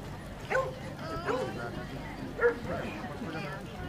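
Dogs yip and bark in short bursts at an outdoor dog show and training demonstration in Rákoskeresztúr, with a few distinct yelps over a busy crowd, while a voice talks throughout.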